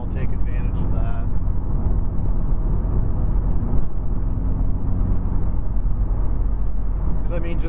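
Steady cabin drone of a 2010 Mazda 3 GT 2.5 cruising on a two-lane highway, a loud, even road and engine hum with no break, while someone inside talks over it.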